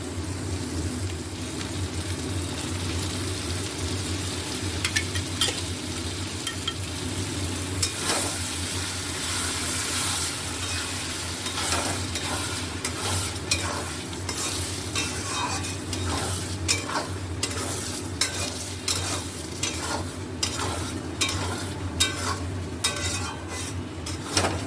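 Tomato paste frying in a pan for a chicken egg tadka, a steady sizzle under frequent clinks and scrapes of a metal utensil stirring against the pan.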